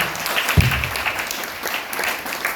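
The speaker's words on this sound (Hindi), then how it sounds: "MI लाइफस्टाइल के लिए जोरदार तालियां हो सकती है सर" Loud, steady applause from an audience at an MI Lifestyle business event, dense clapping filling the whole stretch with a brief low thump early on.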